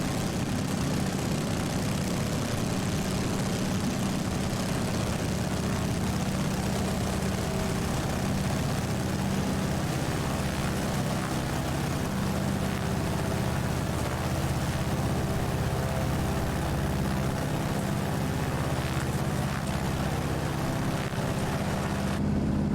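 Carenado Cessna 195 single-engine propeller plane in Microsoft Flight Simulator, engine throttled back to reduced manifold pressure, producing a steady, continuous low drone and hum with no voices over it.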